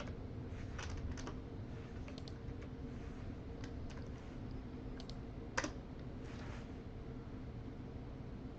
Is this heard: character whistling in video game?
no